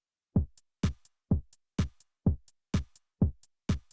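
A dry hyperpop drum beat with no effects: a round kick on every beat, a snare on the second and fourth, and crisp hi-hats on the offbeats, repeating in a tight, even loop with short gaps between hits.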